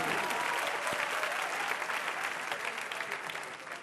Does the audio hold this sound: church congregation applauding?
yes